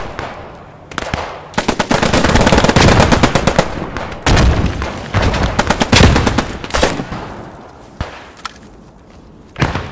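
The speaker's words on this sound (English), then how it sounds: "We are under artillery fire." Gunfire and artillery fire in the video game Post Scriptum, set in a WWII Arnhem battle: dense bursts of automatic fire and heavy blasts pound on almost without pause, loud and close, with brief gaps and a final sharp report.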